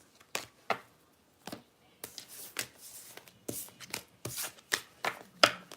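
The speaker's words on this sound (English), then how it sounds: "I'm just going to shuffle it up." A deck of playing cards is shuffled by hand at close range. The sound is a quick series of crisp riffling snaps and soft slaps in uneven bursts, getting busier toward the end.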